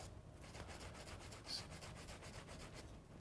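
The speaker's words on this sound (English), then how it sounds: "I'm going to scrub each finger and thumb" A surgeon scrubs each finger and thumb during a surgical hand scrub, giving a faint, steady, rhythmic brushing and rubbing that continues without pause and with no talking.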